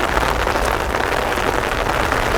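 Early evening rain falls in a garden, a dense, even patter and hiss on leaves and surfaces, steady and close, with no voices.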